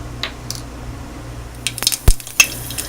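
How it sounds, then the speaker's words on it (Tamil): Mustard seeds crackle faintly and pop in hot oil, with a few sharp ticks and a clink from the pan near the end. "இப்போது கடுகு வெடிக்குதுங்க"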